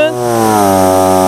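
A low-cost gasoline engine-powered pesticide sprayer runs steadily at close range, its small engine giving a loud, continuous buzzing drone with strong even harmonics throughout.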